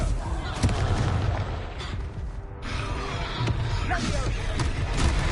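Confringo fire spell blasts in the Hogwarts video game, a dense booming burst with crackling impacts and rumbling explosions throughout, loud and continuous, with a voice calling out over the noise.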